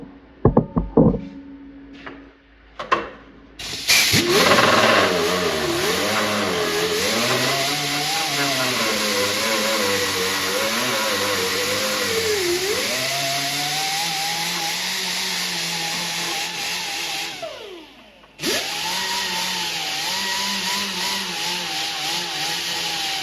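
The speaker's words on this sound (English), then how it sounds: "I think the flap disc on my air grinder is going to work a little quicker." Air grinder fitted with a flap disc grinding metal parts from a Spy Hunter arcade machine under restoration, a loud, sustained high whine with wavering pitch as pressure changes, cutting out briefly near the end before resuming.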